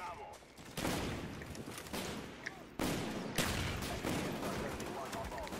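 Gunfire in the Call of Duty Black Ops video game: dense bursts of rapid shots crackle loudly in close succession, with sharp onsets around one and three seconds, while a voice talks over the shooting.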